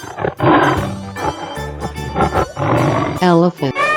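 A tiger in a 3D animal slide game gives a few short, throaty roars up close, mixed with lively voices talking and exclaiming over them.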